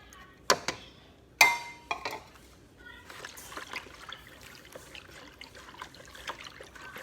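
Evaporated milk pours into a bowl of ingredients for Jamaican pumpkin bread pudding, a soft, steady liquid trickle following a couple of sharp clinks near the start, close and fairly quiet with no talk.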